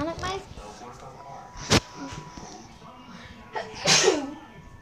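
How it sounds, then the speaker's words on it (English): A sharp, close sneeze breaks through quiet background chatter, followed later by a louder burst of breathy noise. "Sorry, guys, I had to sneeze."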